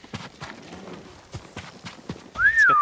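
Hooves clop in a loose, uneven rhythm as a horse moves in the video game Ghost of Tsushima. The hoofbeats are fairly close and moderately loud, and a rising whistle-like tone sounds near the end.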